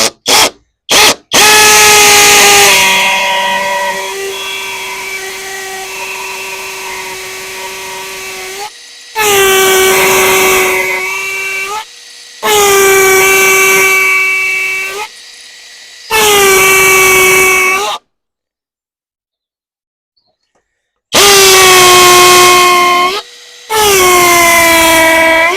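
A Dong Cheng 20V brushless impact drill bores into masonry with a loud, high whine in bursts. One long run is followed by several shorter ones, separated by pauses and abrupt stops.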